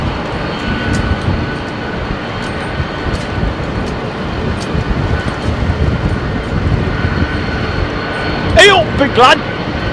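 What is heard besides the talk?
Boeing 767 jet taking off at Heathrow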